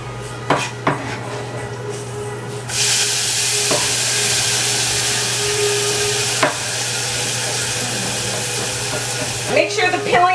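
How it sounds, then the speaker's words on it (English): Tomatoes go into a pan of caramelized onions and garlic, bringing a sudden loud sizzle that holds steady, with spoon clinks and pan knocks around it and a voice speaking at moments. "I'm going to put my tomatoes in there."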